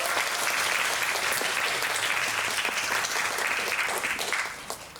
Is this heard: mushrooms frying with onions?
no